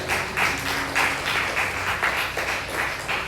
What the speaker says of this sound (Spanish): ¿Por qué no le dan nuevamente esa ofrenda de palmas al Rey de Reyes y Señor de Señores?